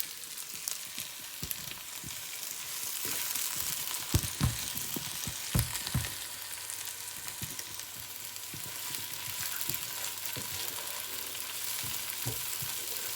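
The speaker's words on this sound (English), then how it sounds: "give the other vegetables a fry" Vegetables and spices fry in a pan for pepper water, a steady close sizzle with scattered louder pops and stirring clatters throughout, no voices.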